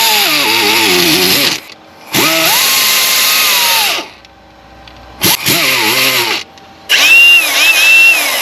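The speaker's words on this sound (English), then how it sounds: "a die grinder to finish the hole, make it at least round and get all the gunk out of there" A die grinder cleans out a bolt hole in cast aluminum, whining loudly in several bursts with pitch dips under load and short pauses between runs.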